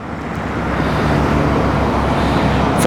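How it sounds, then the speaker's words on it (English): Busy road traffic runs close beside the Shropshire Union Canal, a loud continuous roar of passing cars and heavier vehicles with no talking. "noisy traffic will be joining us. This part of the Shropshire Union tends to run very close to a very busy road"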